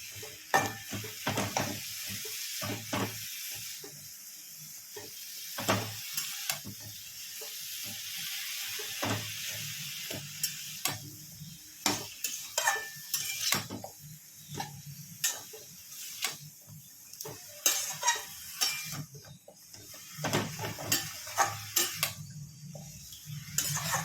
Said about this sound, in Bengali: তেলে ভালো করে নেড়ে নিতে হবে।